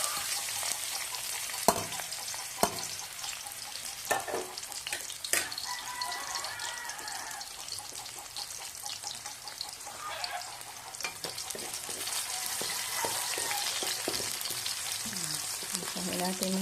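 Garlic, onion and vegetables, including cabbage, sautéing in a pan, a steady crackling sizzle that runs throughout, with occasional sharp clicks and scrapes of stirring.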